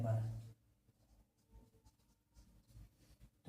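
Handwriting during a Hindi-language algebra lesson, with a pen or chalk scratching quietly in short strokes under a teacher's voice.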